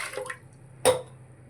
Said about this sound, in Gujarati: હવે તેમાં 1 લીટર પાણી રેડીશું